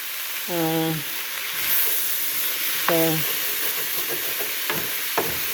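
Brussels sprouts steam in a pan with a continuous soft hiss and sizzle. Short voiced sounds break in twice and a few faint clicks follow toward the end.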